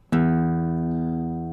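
A single guitar string rings out, plucked once and left to sustain with a slow decay while being tuned against a tuner app; close and clear, with no talking.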